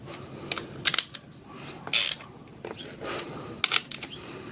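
Bolts tightened on the clutch pedal assembly of a BMW E36 during a manual swap, a few quick metallic ratchet clicks and small clanks close by, with one brief sharper burst near the middle.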